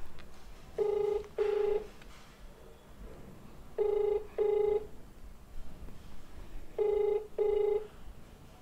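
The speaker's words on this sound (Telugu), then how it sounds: "రింగ్ అవుతుంది." A phone ringback tone sounds in three pairs of short electronic rings, evenly spaced, with quiet room noise between them.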